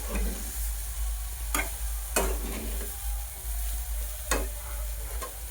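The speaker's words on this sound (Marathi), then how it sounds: "याला छानपैकी आता हलवून घ्यायचंय." Eggplant (brinjal) curry with coriander frying in a pan gives a steady sizzle, while a spoon stirs and scrapes in a few distinct strokes at irregular intervals.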